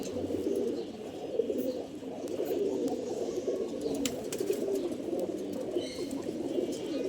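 A green-necked pigeon with red eyes coos steadily in a loft, its soft low calls running continuously alongside faint chirps from other birds nearby.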